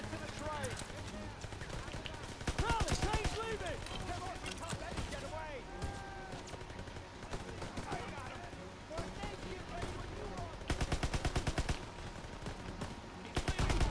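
Rapid automatic MP40 submachine gun bursts in Call of Duty WW2, loud and repeated over a busy battlefield din of other gunfire and explosions, with players talking throughout.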